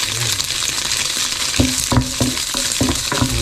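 Garlic sizzles in a stir-fry pan with a little oil and tofu, a soft steady crackle under a series of sharp clinking taps as a utensil strikes the pan in quick rhythm.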